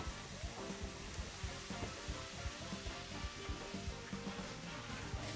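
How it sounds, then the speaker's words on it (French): An egg frying in a lightly oiled or buttered pan gives a steady close sizzle with faint crackling pops, continuous and fairly quiet with no talk. "On n'a qu'à le déposer dans la poêle un peu huilée ou beurrée jusqu'à ce qu'il soit cuit"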